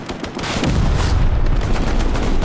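Machine gun fire in a video game, a dense rattling burst that swells into a loud sustained roar of overlapping shots with a heavy low rumble.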